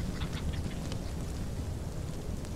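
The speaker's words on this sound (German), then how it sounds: "War das eben Huhn? Irgendwas hat doch hier gegackert." A chicken clucks in a rainy scene from the Old West video game Outlaws of the Old West, with short clucks and quacky calls over steady rain noise and no speech.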